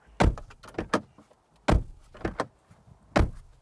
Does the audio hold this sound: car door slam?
yes